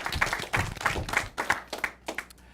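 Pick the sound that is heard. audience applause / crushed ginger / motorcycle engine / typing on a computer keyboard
audience applause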